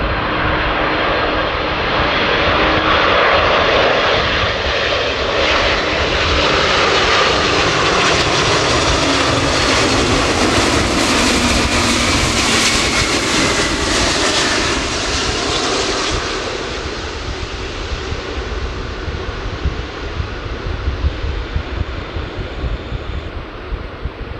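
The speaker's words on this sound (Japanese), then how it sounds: "飛行機は成田空港の A 滑走路、ランウェイ3をレフトに着陸しました。" A loud Antonov An-124 cargo jet roars past landing at Narita Airport, with sustained engine noise and rushing wind, the roar swelling then easing off as it moves away.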